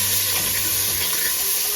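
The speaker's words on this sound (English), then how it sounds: "we're going to take a little red onion, we're going to throw that in" Red onion hitting hot oil in a pan for lentil soup, a steady loud close sizzle with a faint low hum beneath, no one talking.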